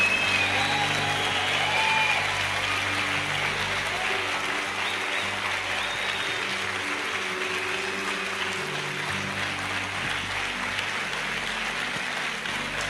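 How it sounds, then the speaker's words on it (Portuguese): Sustained applause from a church congregation at a service, dense and steady, filling the space for the full length without a break, with a few faint voices mixed into the crowd noise. "Pode aplaudir o Senhor."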